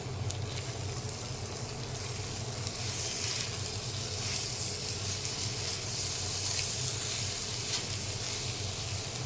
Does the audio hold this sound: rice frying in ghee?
yes